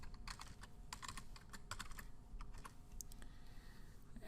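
Someone types quickly on a computer keyboard, producing a steady patter of close, soft key clicks over faint background noise.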